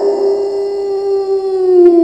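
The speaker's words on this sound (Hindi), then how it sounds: "ये कुत्ते की आवाज है," A dog howls in one long, mournful crying note that wavers slightly in pitch. It is close and loud, lasts about two seconds, and no one talks over it.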